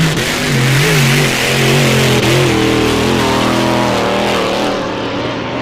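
A Rolls-Royce Merlin-engined race car, nicknamed the old girl, roars past at speed during an E C Griffith Cup race, its loud, sustained engine note shifting slightly in pitch as it goes by.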